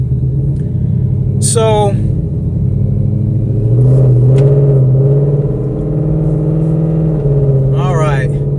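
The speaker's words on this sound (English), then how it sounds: "I never even turn on the radio because I just love to listen to the exhaust." A 2024 Ford Mustang with its exhaust set to loud rumbles steadily while driving, a deep continuous drone that swells slightly midway, with someone talking briefly over it near the start and end.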